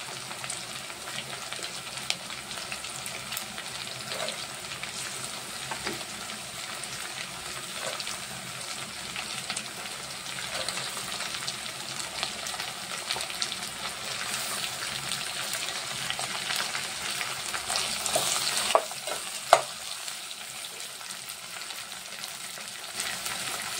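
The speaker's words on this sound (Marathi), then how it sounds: "यातच सर्व भाज्या मिक्स करूया आणि 5 मिनिटं व्यवस्थित आपण परतून घेऊया." Mixed vegetables with curry leaves and green chillies frying in a pan for vegetable pulao, making a continuous soft sizzle with occasional stirring scrapes and clinks, close and steady, with no talking.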